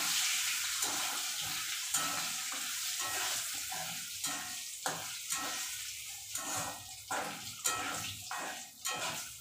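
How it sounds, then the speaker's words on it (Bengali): Dal being tempered with chilli, whole cumin, cardamom and cinnamon in hot oil, a loud continuous sizzle and frying hiss with repeated stirring scrapes and bursts close by, no talk. "এবার আমি ডালটা সম্বার দেব।"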